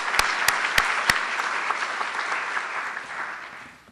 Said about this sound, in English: Let's give all of the new faculty in the college a round of applause.